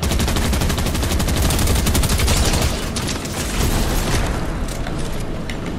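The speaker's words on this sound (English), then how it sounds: "I don't even care if I'm being shot at, I'm doing this." Dense, loud Fortnite gunfire, rapid automatic bursts and booming shots layered thickly and continuously throughout, with no talk.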